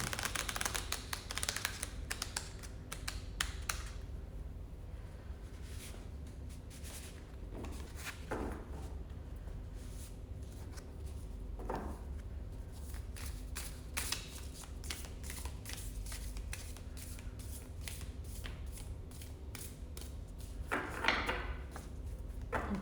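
Tarot cards are shuffled repeatedly, soft papery riffles and taps continuing steadily, with a few sharper flutters standing out; no talking.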